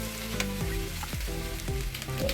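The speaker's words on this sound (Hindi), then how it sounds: "अब हम इसको अच्छे से मिक्स कर लेंगे।" Chuda (flattened rice) stirred and frying in a pan with salt, a steady sizzle broken by several scraping stirs and clanks of a spoon, close and continuous with no voices.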